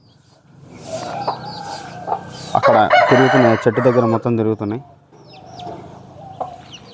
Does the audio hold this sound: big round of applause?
no